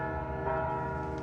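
Bells ring in the point-and-click adventure game Anna's Quest, a sustained, resonant chime with layered overtones that holds evenly throughout, with no one talking.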